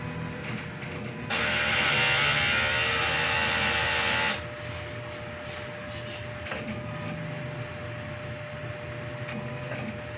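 A DTF printer runs a print head cleaning cycle: a steady mechanical hum, with a louder whirring, pumping burst lasting about three seconds early on before it settles back to a constant drone.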